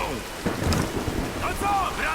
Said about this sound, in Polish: Nie, przeczekajmy burzę!